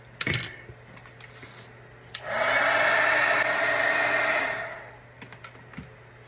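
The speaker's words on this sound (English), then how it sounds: "And I will go ahead and use my heat gun to set that." Heat gun blowing hot air to dry paint on an altered playing card, a steady loud whoosh lasting about two and a half seconds after a few faint handling clicks, then tapering off.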